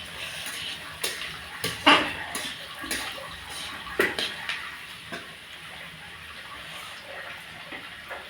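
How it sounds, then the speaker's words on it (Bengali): Prawns fry in a pan while someone cooks at home, giving a steady sizzling hiss broken by occasional clinks and scrapes of stirring utensils. No voices are heard. "ভাজছি চিংড়ি মাছ দিয়ে"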